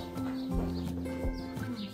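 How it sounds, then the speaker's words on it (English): A horse leaves its stall in winter to go eat hay, its hooves thudding in a slow walking rhythm of a few heavy steps, fairly close, with faint bird chirps in the background. "Spots doesn't care at all. She loves her stall. Watch her go and eat Selena's."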